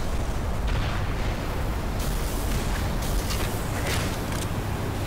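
Rocket blasts in the video game Black Mesa, a dense, continuous roar of explosions and crackling debris with several sharper bursts standing out, loud and close, with no break and no talk.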